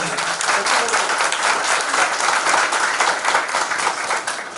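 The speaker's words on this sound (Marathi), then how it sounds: "त्यासाठी खूप जोरात टाळ्या वाजवा." Loud, dense applause from a school reunion audience, many hands clapping steadily and evenly throughout, close and full with no pauses.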